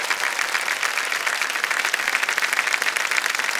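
Studio audience applause on the KBC India quiz show set, a dense, steady wash of clapping that stays loud and even throughout with no voices over it.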